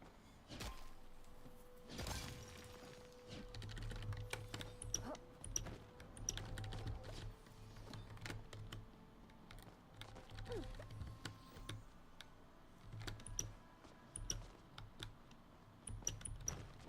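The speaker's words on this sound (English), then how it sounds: "God, this keyboard is so squeaky." Typing on a squeaky computer keyboard goes on steadily, with irregular key clicks and thumps, some squeaky tones and low bumps. The sound is close but quiet and no one speaks.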